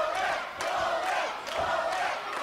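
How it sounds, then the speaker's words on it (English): A wrestling crowd at an NWA show cheers and roars in a broad, continuous wash of noise, swelling in waves at a steady distance with no single voice standing out. "Crowd's getting into this one."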